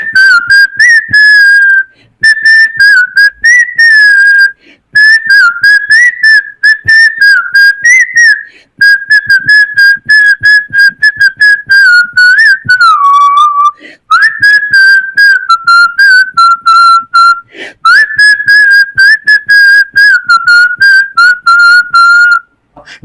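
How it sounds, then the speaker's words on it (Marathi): A person whistles a song as a clear, loud, solo melody, phrase after phrase with short breaths between them and no other sound. "मी शिट्टीतून गाणं म्हणून दाखवणार"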